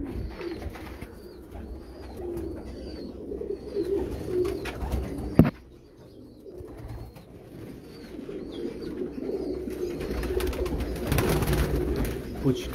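Amritsar breed pigeons in a loft cage coo in soft repeated bursts amid low background rumble and movement noise, with a sharp knock partway through.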